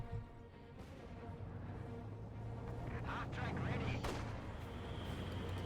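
Mortar fire in the WWII strategy game Company of Heroes 2 comes as muffled distant booms under a low battlefield rumble, with a couple of sharper impacts near the end and a voice talking over it.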